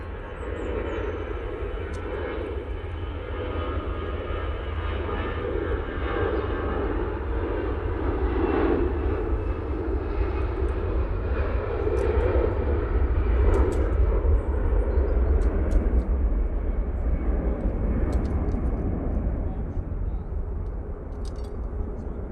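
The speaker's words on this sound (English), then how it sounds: "EasyJet is off to Athens, as I said before" An EasyJet airliner departs Manchester Airport bound for Athens, its engines a steady, broad roar that holds for the whole stretch and swells slightly midway, heard from a distance with no talking over it.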